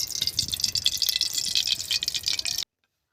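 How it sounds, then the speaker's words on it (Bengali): Cooking oil poured into a hot wok-style pan before frying pond-raised catla and rupchanda fish, a steady hissing, splashing pour heard up close and alone for about two and a half seconds before stopping abruptly. "কড়া গরম হয়ে গেছে, তেল ঢেলে দিচ্ছি।"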